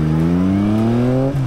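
A 48 hp naked motorcycle engine revving up, a loud, close, rising tone climbing steadily before a brief dip at the end.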